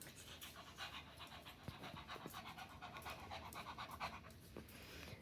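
An old dog at the vet pants in quick, steady rhythmic breaths, close by but soft, with no talking.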